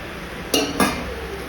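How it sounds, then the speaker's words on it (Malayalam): A utensil clinks twice against a pan while grated coconut is stirred into spinach thoran, two short, fairly close knocks about a quarter second apart over a quiet background. "തേങ്ങ ഇട്ട് നന്നായിട്ട് ഇളക്കി ചേർത്ത് വയ്ക്കാം."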